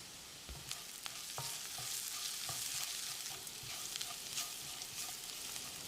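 Onions sizzle gently in a pan with turmeric and rock salt while a utensil stirs and scrapes with irregular clicks, steady and fairly quiet, with no voices.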